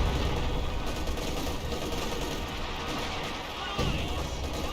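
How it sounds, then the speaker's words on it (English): Sexton self-propelled artillery firing in Company of Heroes 2: a dense, steady barrage of booming blasts and rumbling explosions fills the clip at close, loud level, with a brief dip near the end before resuming. "I hear Sexton artillery"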